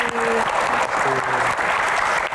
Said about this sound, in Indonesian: Tepuk tangan buat Mas Raffi